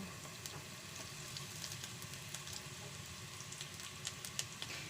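Shredded smoked fish (tinapa) frying in a pan with ginger, giving a faint, steady sizzle with a few soft crackles.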